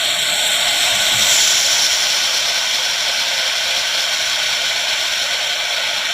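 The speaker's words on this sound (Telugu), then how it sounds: "ఆయిల్ వేడెక్కిన తర్వాత ఆనియన్స్ వేసుకుని అవి అటు ఇటు కలుపుతూ మగ్గనివ్వాలి." Onions frying in hot oil for mutton keema curry, a loud, steady, even sizzle and hiss that holds unbroken throughout.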